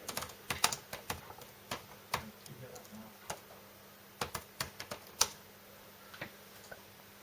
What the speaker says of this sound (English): please type your response underneath as so